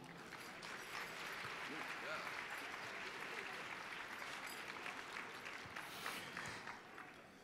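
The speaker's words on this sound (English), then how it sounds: "Would you please give a round of applause to Mr. Keith Cox at this time?" Audience applause at a Native American cultural performance and powwow gathering, a steady broadband clapping wash lasting throughout, fairly even in loudness with a slight swell mid-way, heard from within a large crowd.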